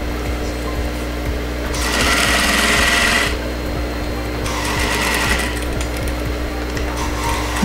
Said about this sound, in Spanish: Voy a hacer un pequeño remache y voy a coser de frente.